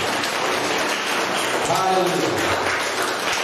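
A congregation claps together during a Sunday church service, a dense, steady wash of applause that fills the room while a voice calls out over it.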